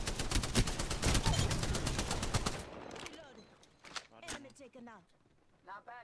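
Gunfire in the video game Apex Legends comes as rapid, loud automatic bursts for a few seconds. Sparse, fainter shots follow, with players talking over the later part.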